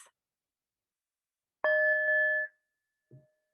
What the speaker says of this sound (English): you'll hear one bell, and that's just a sign to take a deeper breath.